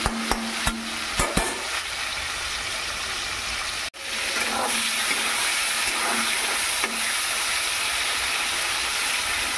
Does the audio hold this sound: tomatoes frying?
yes